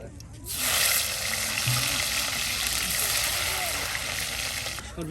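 Taki fish fry in a pan with a broad, steady sizzle that begins abruptly and carries on loudly, with faint outdoor rumble beneath.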